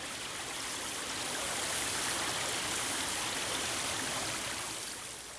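Silver Bow Creek, a mountain stream that once carried industrial wastewater, rushes in a steady, dense broadband wash of flowing water, close and constant throughout with no voices.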